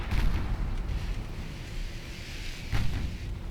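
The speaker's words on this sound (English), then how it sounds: "Rear turret firing." Naval battle in Ultimate Admiral Dreadnoughts, with a warship's rear gun turret firing: deep rumbling artillery booms blending into a continuous low roar, with a renewed heavy blast near the end and no voices.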